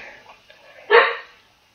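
A single short dog bark rings out nearby after a faint murmur of background voice, then fades to quiet.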